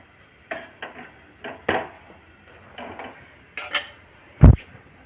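A jowar and maize flatbread roasting on both sides on a pan, with a string of separate clinks and clatters from the pan and utensils as it is turned, ending in one louder metallic knock; no talking.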